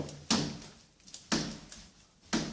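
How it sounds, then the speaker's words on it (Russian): An interior door with hidden hinges, pushed by a knee, gives three sharp knocking thuds at roughly one-second intervals, each trailing into a short scrape, close and fairly quiet. "Но на одной двери интересный шум."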